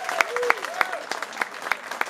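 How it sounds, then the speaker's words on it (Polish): Concert crowd applauding a band at a live venue, brisk clapping with a host's voice talking loudly over it. "Moi drodzy, wielkie brawa"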